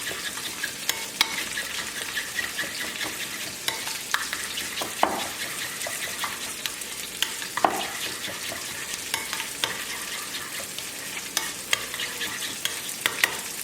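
A spoon keeps stirring burger sauce with paprika and sugar, with faint scraping and light clinks over an even hiss of background sizzle, and no talking.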